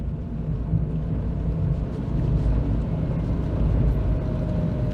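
A Dacia Sandero's modern multi-valve engine labours in 4th gear at about 30 mph and just under 2000 rpm up a 16% gradient, giving a steady low in-cabin drone with road and wind rumble and no talking.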